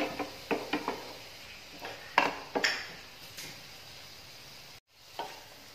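A spatula scrapes and clicks through onion, green chili, ginger, garlic and curry leaves frying in a pan, with irregular stirring knocks over a soft, close sizzle and a brief pause near the end; no talking.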